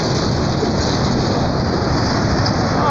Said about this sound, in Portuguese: Agora vamos esperar o trem passar.